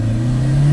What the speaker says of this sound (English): It sounds like there's engine noise coming through here